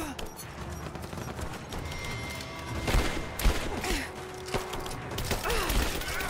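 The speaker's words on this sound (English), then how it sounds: "who's shooting me?" Gunfire in the video game Rise of the Tomb Raider, with scattered shots and several sharp loud cracks cutting through a busy in-game mix of mechanical and ambient noise.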